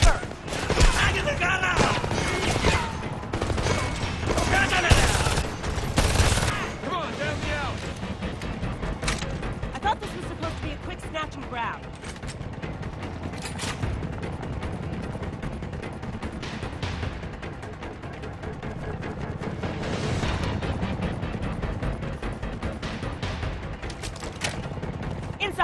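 Sustained firefight in the Homefront game, with dense bursts of automatic gunfire, scattered single shots and booms, continuous and loud throughout, with voices shouting over the battle.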